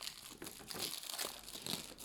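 Cellophane wrap crinkles and tears as scissors cut into it on a Storm Collectibles Mortal Kombat figure box, a short stretch of close, papery crackling.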